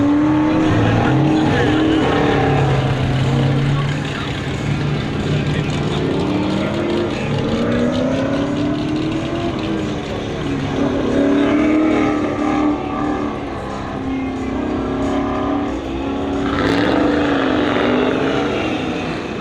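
A Chevrolet C10 race truck competes at an NMCA drag race, its engine roaring loud and close with rising and falling pitch as it revs and launches, over crowd and track noise with announcer speech.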